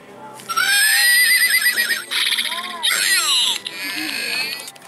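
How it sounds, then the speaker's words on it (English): A horse whinnies loudly in repeated shrill, wavering neighs over a few seconds, close by, with people chatting faintly in the background. "Oh no, that's a horse."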